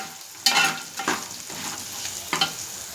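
Potatoes frying in a pan get stirred, a steady sizzle broken by several scraping stirs, close and fairly loud with no talking.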